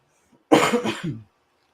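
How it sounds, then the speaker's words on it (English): A short burst of coughing, two or three harsh, throaty bursts run together, loud and close, with no talking around them. "Cough, cough, cough."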